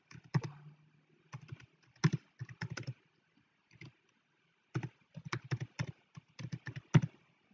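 Bursts of keystrokes on a computer keyboard as an email address is typed, quick clustered taps separated by short pauses, close and fairly quiet with no talking.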